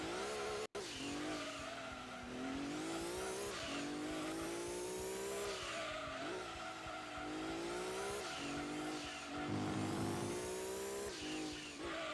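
Gran Turismo 2 race car engine held at high revs, its pitch sweeping up and down through repeated gear changes and a brief rev-down as the car corrects itself, with tire squeal mixed in, loud and continuous.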